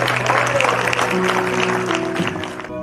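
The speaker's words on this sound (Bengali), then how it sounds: "আসুন আমরা সকলে এই প্রথিতযশা স্বনামধন্য শিল্পীকে স্বাগত জানাই করতালির মাধ্যমে।" Audience at a Manabendra memorial music programme clapping to welcome a singer on stage, a short burst of applause with a sustained tonal hum beneath it, fading toward the end.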